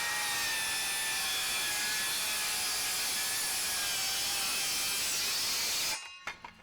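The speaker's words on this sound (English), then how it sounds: "this thing is just blasting down through that wood" A Milwaukee M18 Fuel 7 1/4-inch cordless circular saw rips through wood with a loud, steady high-pitched whine for about six seconds, then spins down, ending in a few clunks and knocks.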